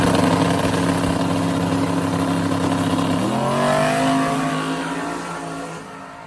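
A Mustang drag race car accelerates hard down the strip, its loud engine roar climbing in pitch, dropping at a gear change, then climbing again before fading into the distance.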